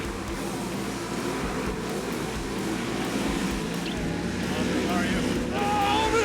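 Polaris Razor UTV engines racing at a Terracross event, a steady loud roar of motors droning throughout with rising revs near the end, under a commentator's talk.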